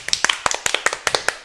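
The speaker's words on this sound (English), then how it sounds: "clap your hands" Several people clap hands together at close range in a quick, slightly uneven rhythm, sharp claps overlapping in a short burst with no voices.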